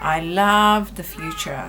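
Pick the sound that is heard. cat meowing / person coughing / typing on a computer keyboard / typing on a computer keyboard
cat meowing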